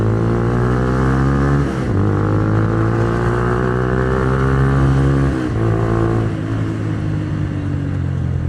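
A 2010 Minerva R150 VX motorcycle engine revs up through second gear, rising steadily in pitch with two short dips between pulls, loud and close with a buzzing exhaust note throughout.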